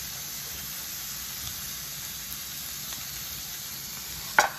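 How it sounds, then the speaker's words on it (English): Ribeye steak sizzles steadily in a hot pan, a continuous crackling hiss up close with a brief sharp clatter near the end. "we got that good sizzle. Tells the pan's hot enough"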